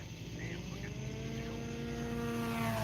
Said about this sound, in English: No prop flyby.